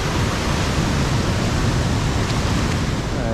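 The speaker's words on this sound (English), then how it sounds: "Got a little waterfall over here." Steady, loud rushing water from a small waterfall on the Appalachian Trail at Falls Village fills the air, unbroken and close by, with no voices over it.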